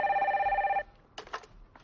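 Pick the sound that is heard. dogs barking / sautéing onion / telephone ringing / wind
telephone ringing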